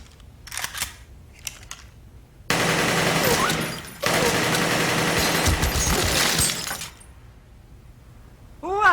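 AK-47 assault rifle fired in a studio demonstration: sustained loud bursts of rapid automatic fire fill several seconds, broken by a brief pause, with a few quieter sharp reports before and silence after.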